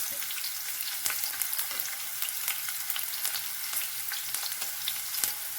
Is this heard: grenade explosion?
no